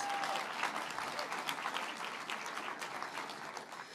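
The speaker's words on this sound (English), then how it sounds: "So let's give it a round of applause." A crowd at a women's sports summit keynote in Portland gives a round of applause, a broad, sustained patter of many hands clapping at an even level throughout, with no voices over it.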